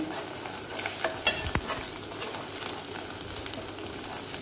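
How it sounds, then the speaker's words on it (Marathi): Spices with turmeric and garam masala frying in oil in a pan for khajri rasa, a steady sizzle with soft scraping stirs and a couple of sharper clinks, close and continuous, no talking. "आता हे व्यवस्थित ढवळून घेऊया।"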